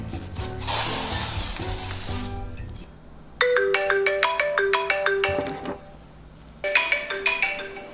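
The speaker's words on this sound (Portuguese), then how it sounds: "Tia Cremerda me ligando?" A mobile phone rings with an incoming call, a bright melodic ringtone playing in two bursts of rapid tones after a brief rustling hiss at the start.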